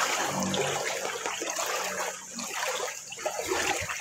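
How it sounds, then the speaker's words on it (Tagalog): Floodwater from heavy rain flowing past the front of a house toward a rice field behind it, a steady rushing and splashing water sound, fairly close and continuous, with no talking. "Lulusot dito ang tubig papunta doon sa sinabi kong palayan sa likod."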